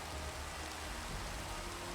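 Rain falls in a video game as a steady, even hiss of soft broadband noise with no distinct drops, continuous for the whole brief moment and without any voices.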